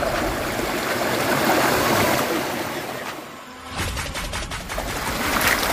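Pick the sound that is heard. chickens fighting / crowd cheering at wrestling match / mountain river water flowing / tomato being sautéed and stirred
mountain river water flowing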